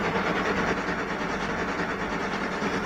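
A train carriage rolls steadily along rails, a loud, continuous rumbling hiss with a faint rhythmic clatter that holds even throughout and has no voices.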